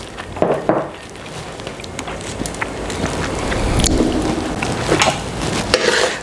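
Rice frying in a hot fry pan, a steady crackling sizzle that swells in the middle, with occasional louder scrapes and clatters of stirring.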